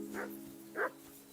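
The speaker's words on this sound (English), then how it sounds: "what's with all the barking?" Dog barking in the medieval role-playing game Kingdom Come: Deliverance II, two short barks spaced apart, moderately faint over a steady tonal hum from the game.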